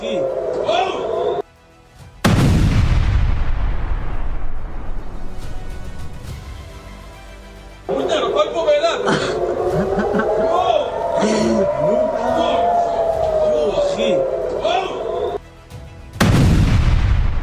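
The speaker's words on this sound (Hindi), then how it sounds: "एक भीषण धमाके की आवाज आती है" Several heavy booming blasts from airstrikes in Lebanon strike suddenly, each followed by a long rumbling decay, with a crowd's voices and commotion rising between them.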